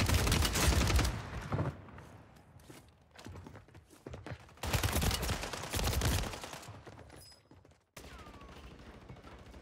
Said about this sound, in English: I'm getting sniped from across the map.